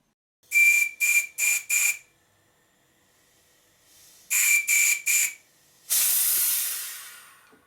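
Whistle on a vintage model traction engine, driven by compressed air through the safety valve hole: four short shrill toots, a pause, three more, then one longer hissing blast that trails off, loud and close.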